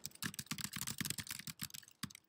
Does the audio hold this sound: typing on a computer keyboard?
yes